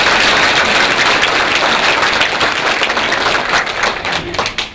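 Steady, dense applause from a civic meeting audience honoring provincial council members, loud and continuous throughout before tapering slightly at the end.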